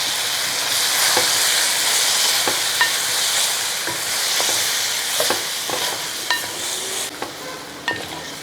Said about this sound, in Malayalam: തീ കുറച്ച് വെച്ചിട്ട് ഇതെല്ലാം കൂടെ ഒന്ന് ഇളക്കി കൊടുക്കുക